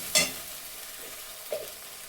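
Tengra fish curry with spices fries in a pan, a faint low sizzle under two spatula strokes, a loud scrape at the start and a softer one a little later.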